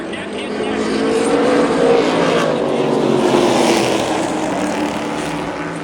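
Race cars at the Intimidator 100 running neck and neck, a loud sustained engine roar that swells past mid-clip and then eases, with an announcer talking over it.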